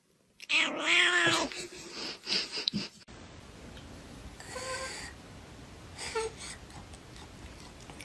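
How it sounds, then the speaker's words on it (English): A cat yowls loudly after being given catnip, drawn-out wailing cries up close, then quieter intermittent moans and meows follow after a short break. "This is what actually happens when you give a cat catnip."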